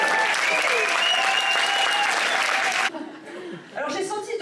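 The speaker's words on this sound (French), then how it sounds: "donc vraiment encore applaudissez-vous quoi." Audience applause at a packed stand-up comedy night, a dense burst of clapping with a few whoops that cuts off abruptly, then a brief quiet gap before scattered claps and crowd murmur resume.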